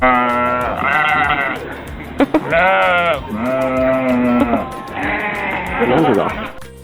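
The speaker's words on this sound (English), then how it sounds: "S for sheep." Sheep bleat repeatedly, a few wavering calls one after another, close and loud.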